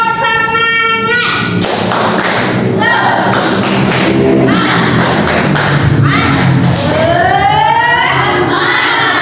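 A class of schoolchildren performs a rhythmic spirit clap, sharp claps and thumps in a patterned beat mixed with their chanting voices, loud and close in a classroom.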